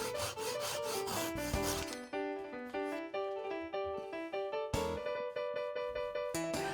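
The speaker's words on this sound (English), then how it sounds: "Then cut the dowel flush to the surface." Quick back-and-forth saw strokes cut a wooden dowel flush to the surface close by, a steady rasping rhythm that pauses briefly midway, then resumes.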